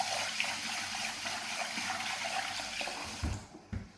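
Rice is rinsed softly in water for Korean home cooking: a steady, close splashing and sloshing of liquid, ending with a few heavier swishes and a drop-off to quiet.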